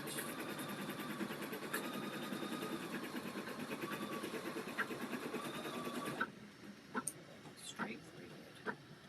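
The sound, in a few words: embroidery machine sewing a tack down stitch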